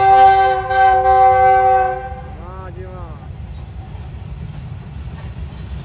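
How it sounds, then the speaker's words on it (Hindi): A train on a railway sounds a long, loud harmonic horn blast close by, then rumbles past with steady rolling noise and a brief pitch-bending tone, while people talk briefly over it. "और रेलगाड़ी आ गया यार, देखेंगे सामने"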